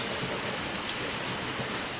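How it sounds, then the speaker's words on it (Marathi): Steady continuous rain falls outside after several days of downpour, a dense even hiss of drops on surfaces with no pauses and no voices. "कंटिन्यू पाऊस पडत आहे 4-5 दिवसापासून."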